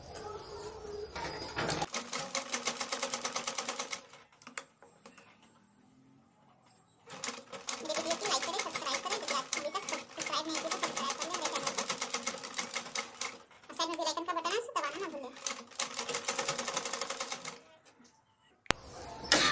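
A sewing machine stitches the lining of a blouse in long, steady whirring bursts separated by pauses, loud and close.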